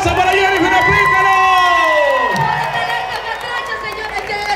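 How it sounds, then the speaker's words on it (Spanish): A festive crowd at an Honduran independence celebration cheers and applauds loudly, with whoops and excited chatter blending together as voices ring out over the steady roar, easing slightly toward the end. "¡Que se escuche más fuerte el aplauso para Jerry Finaplícaro!"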